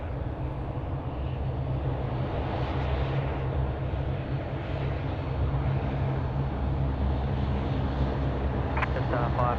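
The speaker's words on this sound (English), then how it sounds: "Jetstar 912, cleared for takeoff." A Jetstar airliner taking off at Sydney Airport, a steady low engine roar that holds loud and constant throughout, heard from a distance, with no clear rise or fade.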